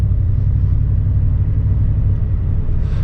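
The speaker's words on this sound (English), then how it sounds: "So now driving off to McDonald's drive-in guys." A 2022 Brabus G800 Pickup XLP pulls away, its engine giving a steady, loud low rumble throughout with no change in level, heard from close by inside the vehicle.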